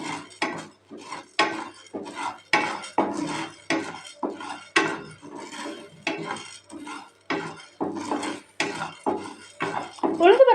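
Urad dal dry-roasting in a pan, stirred with a utensil that scrapes and clinks against the metal in a steady rhythm of short, close strokes repeating throughout.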